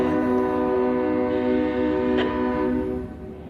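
A loud, sustained Amtrak train horn blares with rumbling wheels beneath, then begins to fade near the end as the train passes.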